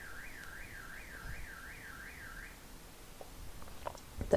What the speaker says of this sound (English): There's a car alarm, of course.